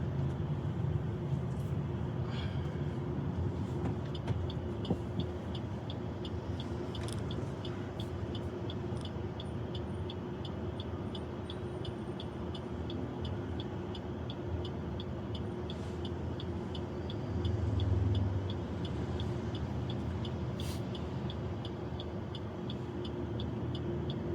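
Interior rumble of a car moving through Pune city traffic with steady road noise, occasional passing vehicles and faint ticking, continuous and without speech.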